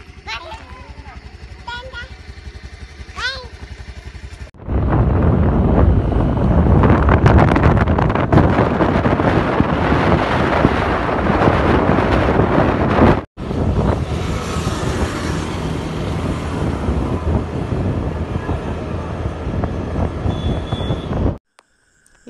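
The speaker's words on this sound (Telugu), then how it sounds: "ఈ గాలి వర్షం వల్ల మేము ఎటు వెళ్ళలేకపోయినాము." Strong wind and heavy rain roar loudly and steadily, buffeting the microphone, with a quieter stretch and faint voices at the start before the downpour surges in.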